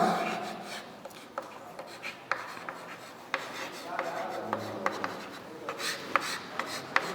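Chalk or marker scratches and taps against a board as given data for a shaft problem is written out, a quiet run of short strokes and clicks with light room noise and no talking.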